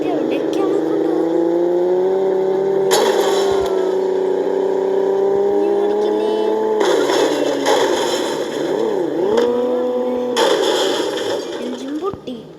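A video game car's engine drones steadily with rising and falling revs and a few abrupt loud bursts, close and continuous, while a voice talks over it.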